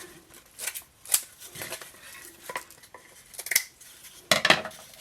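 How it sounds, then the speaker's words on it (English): Scissors cutting through a roll of deco mesh for a fall wreath: a few close crisp snips and light rustles of the mesh, with small clinks and handling noises in between, no talking. "I come to the end of the roll and I'm going to just cut it away"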